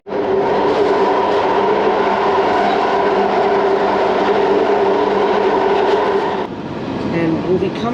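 A nine-coach train rolls along the Epping branch line, a loud, steady rumble and rattle of the carriages that holds throughout, with a slight shift in tone near the end.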